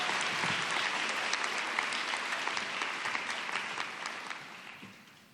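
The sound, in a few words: audience applause welcoming a speaker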